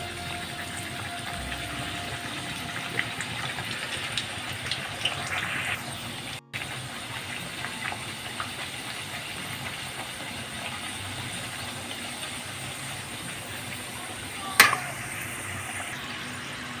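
Potato slices frying in oil over a low flame make a steady, quiet hiss and bubbling that runs throughout, with one sharp clatter near the end.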